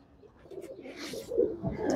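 An old pigeon at a home loft gives a few soft, low coos, faint and close, rising slightly toward the end over quiet background.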